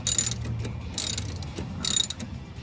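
A ratchet wrench clicks in three quick bursts while cranking down a spring compressor tool on the strut of a 1973 Volkswagen Super Beetle, with metallic ratcheting close and clear and no speech.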